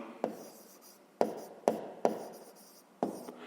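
A pen taps and scratches out numbers on paper while a maths exercise is worked, several short close strokes in an irregular rhythm against a quiet background.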